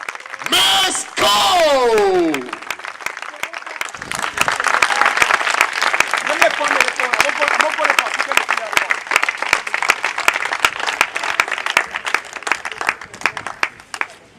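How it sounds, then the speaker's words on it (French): Audience at a slam poetry stage event bursts into applause for a performer, dense clapping with a few cheers after a brief voice at the start, tapering off near the end. "Applaudissez pour accueillir sur scène"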